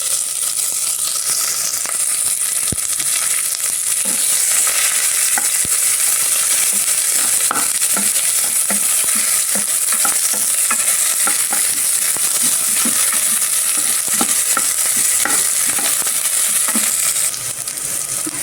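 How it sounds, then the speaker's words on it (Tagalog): Ginger frying in a pan as onion is added, a continuous hissing sizzle with frequent light scraping and clicking of the stirring utensil throughout, close and with no talk. "Ayan, dahil nag-brown na yung ating luya, sabay naman po natin tong sibuyas."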